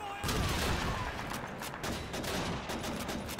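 Dense volley of gunfire in Call of Duty 2, many rapid overlapping shots in a continuous loud barrage with battlefield clatter throughout.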